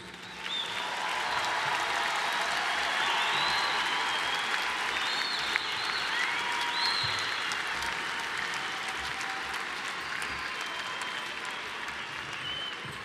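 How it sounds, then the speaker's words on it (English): Sustained audience applause fills a December commencement ceremony hall as graduates are honored, steady dense clapping from a large crowd, fairly distant and even throughout, with no speech over it. "Please join me in another round of applause for our graduates."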